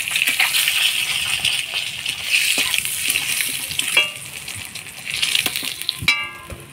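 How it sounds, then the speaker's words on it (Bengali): Eggs seasoned with turmeric and salt fry in hot oil in a village kitchen, giving a steady close sizzle with scattered clinks and scrapes of a spatula against the pan. "ডিমগুলা ভেজে নিলাম, এবার তুলে নিব।"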